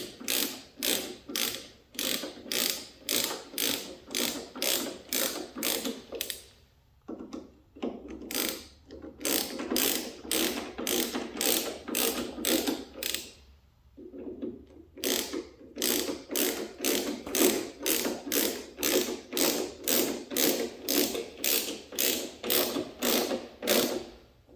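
A 3/8 drive ratchet turns bolts on a Toyota Tacoma SR5 door latch, making loud, close, steady runs of crisp clicks broken by a few short pauses.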